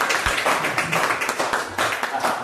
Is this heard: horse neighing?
no